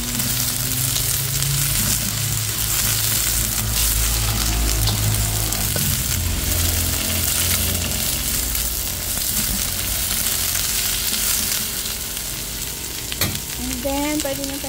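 Snow peas stir-frying with onion in a hot pan, a loud continuous sizzle with stirring scrapes and clatter throughout, and a brief clink near the end.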